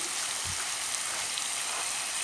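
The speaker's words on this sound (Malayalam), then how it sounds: "ഒരു പാനിൽ എണ്ണ ഒഴിച്ച് സവാളയും ഇഞ്ചി വെളുത്തുള്ളി പേസ്റ്റും അതുപോലെ തന്നെ പച്ചമുളകും ഉരുളക്കിഴങ്ങും" Onion, ginger-garlic paste, green chilli and potato frying in oil in a pan, giving a steady, even hiss of sizzling that holds through the whole stretch with no talk.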